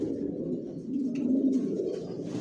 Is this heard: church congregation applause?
no